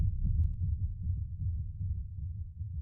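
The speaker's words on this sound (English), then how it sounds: "Where's my heartbeat?" A low, muffled heartbeat from the Thaumcraft mod in Minecraft thumps steadily and continuously, dull and bass-heavy, pulsing in a regular rhythm with no other sounds.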